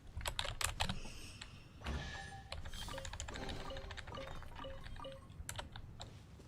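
Computer keyboard taps sound right next to the microphone while someone plays Genshin Impact on stream. Rapid, irregular clicks run steadily throughout, close and fairly crisp, with no talking.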